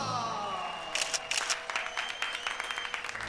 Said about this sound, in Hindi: अरे काम हुआ नहीं, ताली बजा दी।